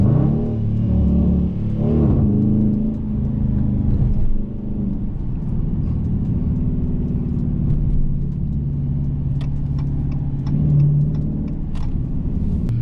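A Dodge Challenger R/T fitted with a Z-taser engine tuner accelerates onto a freeway, heard from inside the car as a loud, steady engine drone that rises and eases in pulls over road rumble.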